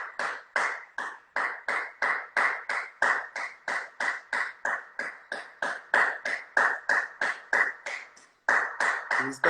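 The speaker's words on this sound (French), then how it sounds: "J'espère que tous les Français ils sont en train d'applaudir en ce moment." Steady, rhythmic applause for the 8 pm quarantine clapping, with close, even hand claps repeating continuously. A brief pause comes near the end, and a voice joins just as the clapping resumes.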